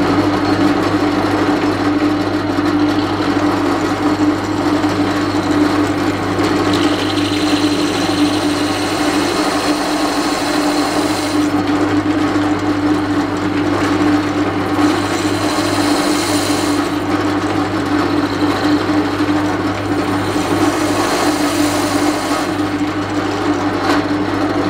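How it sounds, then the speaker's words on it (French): An electric drill spins a trimming tool against a wooden pen blank, a loud continuous whirring grind that runs for the whole stretch with slight shifts in tone and no speech. "L'araseur peut se monter soit sur une poignée en bois, soit directement dans la perceuse comme ici."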